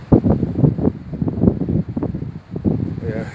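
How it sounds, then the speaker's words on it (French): Wind gusts across a motorhome stopover area in Martigues, Bouches-du-Rhône, buffeting the microphone in close, uneven rumbling bursts that rise and fall continuously. "Ben, du vent, il y en a."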